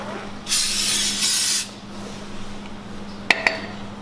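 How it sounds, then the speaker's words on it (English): A single hissing aerosol spray burst during an oil change on a Subaru STI lasts about a second, followed by quiet room noise and two faint clinks. "Just be careful when you spray this stuff"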